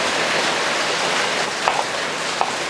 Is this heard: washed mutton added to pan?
no